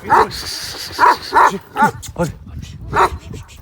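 Close, loud barks from a twelve-year-old Kangal dog come in a handful of separate bursts, each short and forceful, with rough growling tones between.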